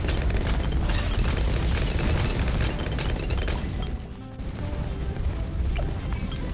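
Bomb shooter tower in Bloons TD 6 blasting stacked bloons, a dense continuous barrage of loud explosive booms and pops that briefly thins before surging again.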